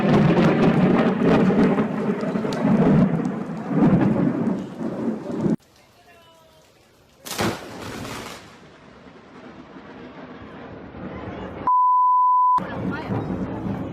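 A lightning strike and thunder hit during a storm at an outdoor wedding: a sudden loud crack bursts out between stretches of rain-like noise and murmuring, and a short steady beep follows.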